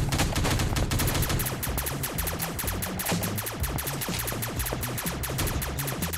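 In the Teddy Bear Gun Strike shooting video game, rapid automatic gunfire rattles on almost without pause, loud and dense, with sharp repeated shots across the whole stretch.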